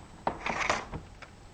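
Scissors cut a small piece of paper for a handmade card, giving a few close, crisp snips and soft paper rustles in a quiet room.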